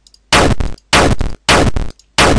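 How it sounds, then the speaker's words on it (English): Four loud synthesized tank cannon blasts for a game fire one after another with short silent gaps between them, each a sharp boom with a brief rumbling tail. "sounds a bit like a shot, doesn't it?"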